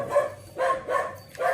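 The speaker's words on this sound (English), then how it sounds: "how to get the dog to be quiet" A dog barks in about four repeated bursts, fairly close and moderately loud, with short gaps between them and no talking over it.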